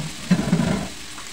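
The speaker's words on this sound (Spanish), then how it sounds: "Y vamos a sofreír el ajo." Garlic and red onion fry in a pan for a shrimp encocado, a short burst of bubbling sizzle that swells briefly and then settles into a low hiss.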